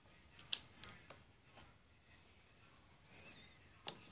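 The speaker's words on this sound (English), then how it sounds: "I will cut some hair." Close, crisp snips of scissors cutting hair, a few sharp isolated clicks spaced irregularly in a quiet room.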